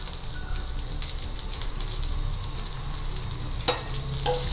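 Onions frying with salt in a pan give a soft, steady sizzle, with light stirring scrapes and a couple of sharper clinks near the end, close but quiet, with no talking.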